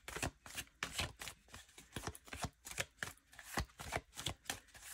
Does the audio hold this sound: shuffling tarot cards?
yes